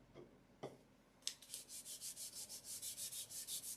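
Cloth rubbing a finish onto a wooden piece, a few soft swipes and then a steady run of rhythmic back-and-forth strokes, close and fairly quiet with no talking.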